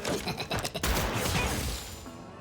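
A character shooting at the player in the video game Mewgenics: a rapid burst of loud gunfire snaps followed by a heavy blast that decays into a ringing tail.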